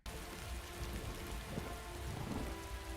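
Steady rain pours down in a dark scene from the 2003 Daredevil director's cut, a constant hiss of drops on surfaces with a low rumble of thunder underneath and no talk.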